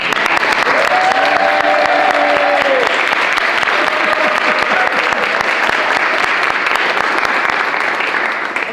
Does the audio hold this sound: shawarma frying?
no